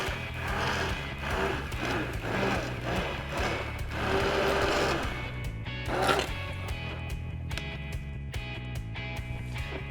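A blender purees a bourbon BBQ sauce with extra bourbon added, its motor whirring close by in a rhythmic, pulsing drone with rattling harmonics.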